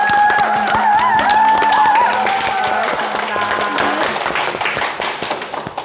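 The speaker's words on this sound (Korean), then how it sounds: "오늘 함께 모신 가족들 큰 박수 부탁드립니다" An audience applauds as a family is welcomed on stage, a burst of clapping and light cheering over bright background music that fades slightly as the clapping thins out.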